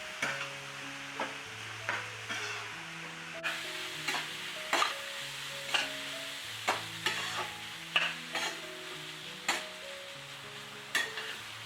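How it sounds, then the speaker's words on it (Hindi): Crumbled paneer is stirred and mashed with a spatula in a pan, making repeated scraping knocks in an irregular rhythm over a soft sizzle, with steady tonal humming beneath. "आप स्पैचुला की हेल्प से पनीर को इस तरह से और मैश भी कर सकते हैं।"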